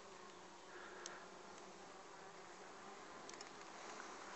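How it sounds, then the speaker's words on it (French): Honey bees buzz around a beehive with metal entrance doors in spring, a soft, steady, close drone with slight wavering and no voices. "avec des belles petites abeilles"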